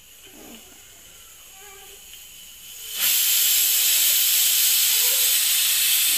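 A pressure cooker whistles as it vents steam while cooking spinach and dal rice on medium heat, a sudden loud, continuous hiss bursting in after quieter kitchen background and holding steady to the end.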